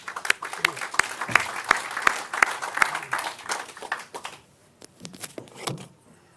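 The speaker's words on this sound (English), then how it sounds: "let's give them a round of applause" An audience applauding panel speakers at an industry and critical infrastructure event, with scattered, sharp claps of moderate loudness that thin out toward the end and then briefly pick up again.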